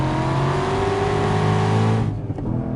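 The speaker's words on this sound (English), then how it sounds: "And that's a lap in the Corvette Z06 with the carbon option." Corvette Z06 with the carbon option on a track lap, its engine roaring loud and close under hard acceleration before abruptly cutting back near the end.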